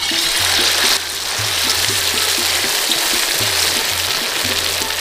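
Marinated chicken pieces sizzle in hot oil in a wok, cooked outdoors in a village jungle for chilli chicken. A loud, steady hiss of frying carries on without pause, with a rhythmic low thumping pattern underneath and no talking.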